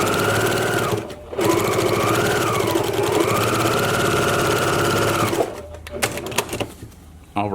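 A sewing machine runs steadily while stitching down the facing flap on a quilt, a loud continuous whir with a brief pause near the start and a stop near the end followed by a few light clicks.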